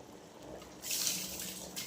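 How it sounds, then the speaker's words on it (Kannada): Rice tips into boiling biryani-masala water, a brief splashing pour that rises suddenly into a bright, watery rush and then settles into a bubbling simmer. "ಅಕ್ಕಿ ಹಾಕ್ತಾ ಇದ್ದೀನಿ ಈಗ."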